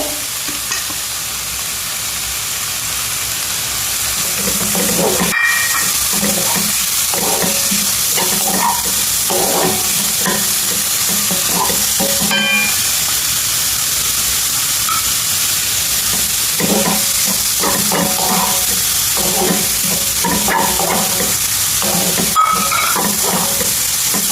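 Cabbage sizzles and fries in a pan for an Indian-style Italian tomato pasta soup, with a steady hiss and repeated scraping stirs close by, and no talking.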